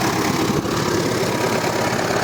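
Kirovets tractor with an SMD-22 diesel engine running: a loud, steady, rough engine drone with constant rumbling vibration and no pause, heard close with no voices.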